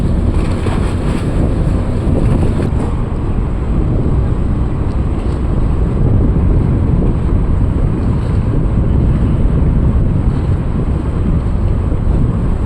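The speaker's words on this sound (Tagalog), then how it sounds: "hangin at saka current ng tubig" Strong wind roars across the microphone over rushing water current at Dangay Port, Roxas, at night, a loud, constant rumble that holds steady throughout with no voices.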